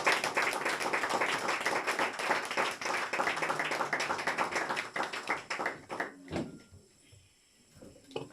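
A church congregation claps together to acclaim the Lord, a dense, steady round of applause for about six seconds before it thins into scattered claps and taps.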